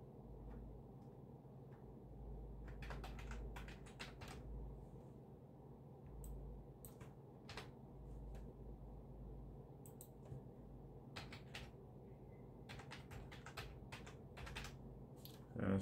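Quiet computer keyboard typing while a username is entered during an online account sign-up, delivered as short irregular bursts of key clicks separated by pauses, with no voices.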